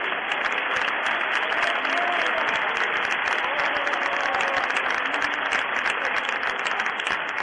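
A church congregation gives sustained, steady applause, dense and even throughout without a break in the clapping.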